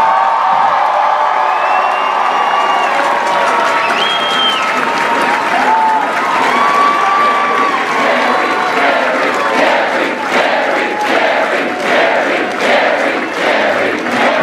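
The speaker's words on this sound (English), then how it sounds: "One more round of applause for the Towson Marching Band." A large stadium crowd applauds and cheers for a university marching band at a football halftime show, a dense, steady roar of clapping with scattered whoops and shouts lasting throughout, loud and close.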